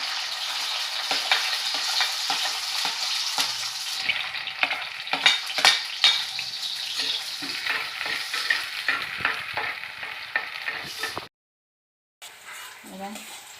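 Shallots hit hot butter with beef liver and fry in a steady loud sizzle, stirred with repeated scraping clacks of a spoon against the pan, someone talking over it before the sound cuts out briefly near the end.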